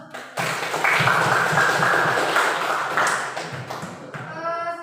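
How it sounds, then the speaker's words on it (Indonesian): A group clapping hands together indoors, a dense burst of applause that swells in loudness and then fades over a few seconds, with faint voices mixed in at the end. "Ya, tepuk tangan dulu."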